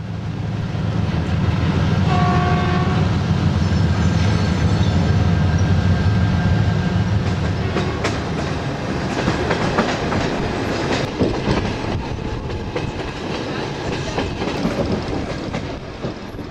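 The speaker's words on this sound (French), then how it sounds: "Un élément triple de tambour de la taïga manœuvre une rame lourdement chargée" A triple diesel locomotive unit shunting a heavily loaded freight train at a small station near the Russia–China border, a loud, close, continuous engine rumble that gives way to rolling wagons with clattering wheel noise and metallic squeals; no voices.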